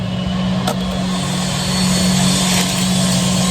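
A steady mechanical engine drone from construction in a neighboring yard hums in the background, continuous and moderately loud, with no voices.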